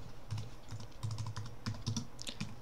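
Fingers type on a computer keyboard while Git commands are entered on a Linux machine, sounding as irregular bursts of close, crisp keystrokes with short pauses between clusters.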